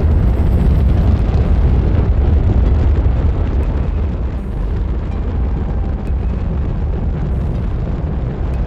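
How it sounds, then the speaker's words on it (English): A big rocket launching in the space game Astroneer: a loud, steady roar of broadband rumble and hiss that holds at full strength for the whole stretch without letup. "This big rocket doing its thing."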